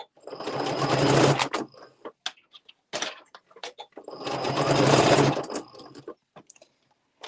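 A sewing machine stitches a Luxe Cuddle wrap in two loud, sustained runs, each a few seconds long, separated by clicks and handling noises close by.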